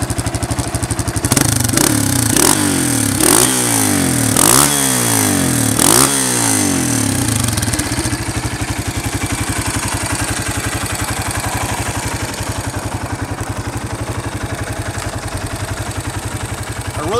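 A 2009 Honda CRF230 dirt bike engine runs close by, with several sharp throttle blips in the first few seconds, then settles into a steady, rattly idle for the rest.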